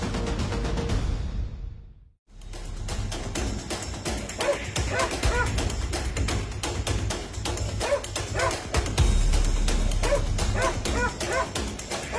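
An angry dog barks and yips in rapid, loud bursts, with whimpering between them; the barking starts after a brief pause near the beginning and keeps going steadily to the end.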